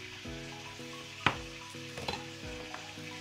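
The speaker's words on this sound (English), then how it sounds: "first I'm gonna saute my onions" Onions sauteing in a pan give a steady, close sizzle with faint crackling, broken by a sharp clatter partway through and a few small knocks afterwards, with no voices present.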